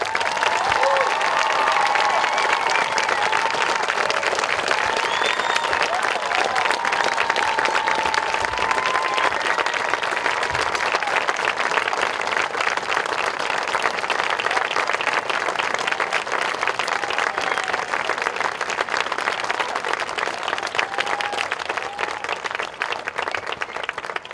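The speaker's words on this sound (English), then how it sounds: "let's give these cadets another round of applause." A crowd at a military review and senior ring ceremony for cadets gives long, dense, steady applause mixed with scattered cheering, loud and sustained from start to finish without a pause.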